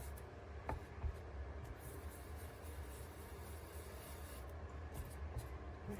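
A blending brush rubs ink onto paper to darken a background. It makes a steady, close, dry scrubbing that runs unbroken for several seconds with faint strokes throughout.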